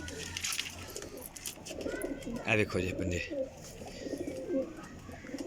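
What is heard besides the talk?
high flyer pigeons cooing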